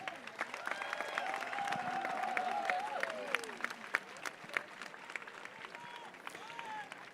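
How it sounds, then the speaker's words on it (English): An audience at a live sports festival applauds the guests seated on the dais, a soft, fairly distant clapping crowd with scattered sharper claps, faint whistles and a murmur of voices underneath. "A big round of applause for all the guests who are there on the dais"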